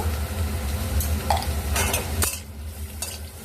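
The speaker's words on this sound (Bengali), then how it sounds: "এবার দিয়ে এটাকে নাড়াচাড়া করব।" Potato and egg with salt, turmeric and Kashmiri chilli powder being stirred in a pan with little oil, a utensil scraping and clinking against the pan in short bursts over a low steady background.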